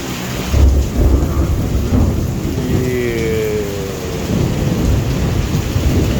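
Low rumbling thunder rolls steadily through the clip over a broad wash of noise, with a faint animal call rising briefly partway through.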